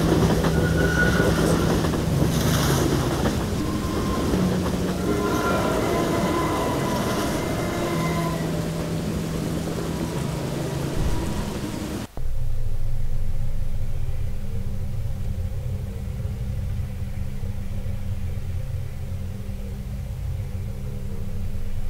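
Train rumble from the video game The Train, a steady loud rolling drone with rhythmic clatter for about twelve seconds, then a sudden cut to a quieter, lower hum that continues alone.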